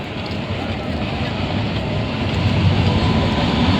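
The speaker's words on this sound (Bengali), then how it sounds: "এই যে আমাদের ট্রেন চলে এসছে" A continuous low rumble of a train rolling in, steady and fairly loud, with people talking faintly underneath.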